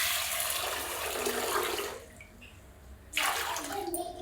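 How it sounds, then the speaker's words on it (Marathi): Water poured in a strong splashing stream to wash grain in a kitchen, gushing for about two seconds, pausing, then pouring again up close. "आता पाणी ओतते, धुवून घेते मी."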